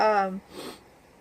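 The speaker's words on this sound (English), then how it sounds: "I apologize for the sniffles and coughing" A person with allergies gives one short sniffle after a brief voiced sound, close and fairly soft.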